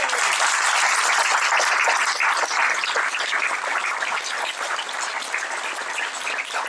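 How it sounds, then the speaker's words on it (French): A crowd at a political gathering in Eure-et-Loir applauds volunteers with sustained, steady clapping that holds loud for several seconds and eases slightly toward the end, with no voices over it. "Je vous demande de les applaudir."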